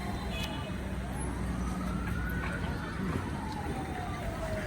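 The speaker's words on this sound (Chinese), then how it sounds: "有消防车的声音啊" A fire engine siren on a busy street, its rising and falling wail sweeping across the clip at a moderate distance under steady traffic noise and some nearby talk.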